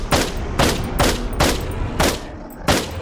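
Rapid bursts of video-game gunfire from the wave-survival shooter Pop Some Eyes, about six loud, evenly spaced volleys over a steady backdrop, with no talking.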